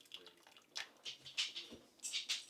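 Pasta water being poured into a plant-based sauce in a home kitchen, a faint, short series of soft splashes and trickles with small gaps between them.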